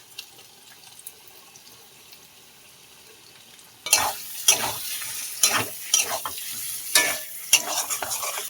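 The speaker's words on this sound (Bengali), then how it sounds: "ভালো করে মশলাটা কষিয়ে নেব।" Spice paste for koi fish curry stir-fried in a pan, quiet at first, then loud sizzling with repeated spatula scrapes and stirring strokes from about four seconds on.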